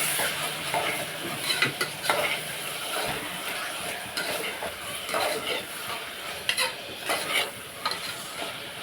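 Onion, tomato and ginger garlic paste are stirred in a sizzling pan for a farm chicken curry, with steady frying hiss and repeated scraping strokes of a spoon throughout, fairly close and with no talk.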